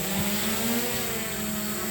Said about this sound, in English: immediately I could hear the difference in the prop noise, obviously because you have more weight on the drone